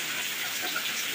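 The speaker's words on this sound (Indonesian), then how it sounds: "Hujan deras" Heavy rain pours steadily at night during a flood, a dense, even hiss of falling water with no voices over it.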